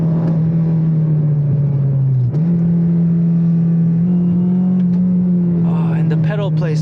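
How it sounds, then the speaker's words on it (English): A Honda FD2 Civic Type R engine pulls hard on a race track, a loud steady drone inside the cabin that dips briefly at a shift and climbs again, with a voice speaking over it near the end. "The engine is so responsive."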